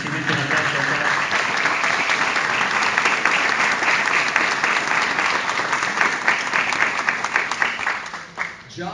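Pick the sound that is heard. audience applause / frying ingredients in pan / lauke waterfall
audience applause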